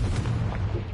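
A Confringo fire spell explodes in the Hogwarts Legacy video game, a brief, loud, booming blast with a deep rumble that fills the whole moment.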